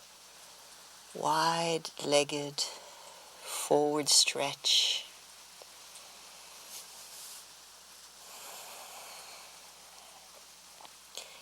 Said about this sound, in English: We're having a little downpour here on the yoga roof. Might be light hail.